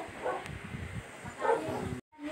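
A dog on a roadside where motorbikes pass gives two short barks about a second apart, moderately distant over background rumble, before the sound cuts out briefly.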